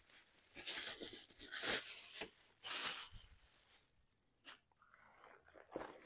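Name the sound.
tearing open a package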